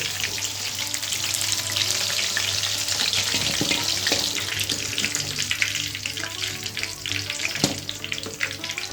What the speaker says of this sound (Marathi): असं छान मस्त परतून घेऊ